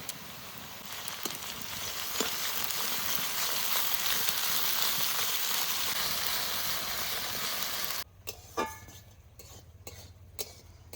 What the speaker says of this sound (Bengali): পেঁয়াজগুলো অল্প ভেজে নিয়েছি, এবার আদা রসুন দিয়ে দেবো